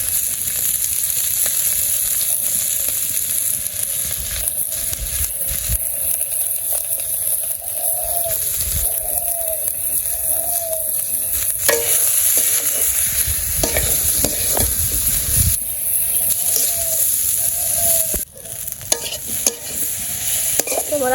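Potato pieces fry and get stirred in a pan with salt, turmeric and chili, a steady close sizzle with repeated scraping and clattering strokes of the spoon throughout, no talking.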